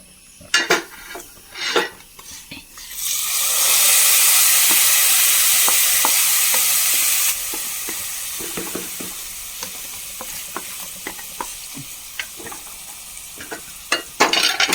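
Hot tempering with green chillies poured into a brindle berry curry, first some spoon clinks, then a loud burst of sizzling that holds for a few seconds and fades, followed by repeated stirring and clinking of utensils against the pot.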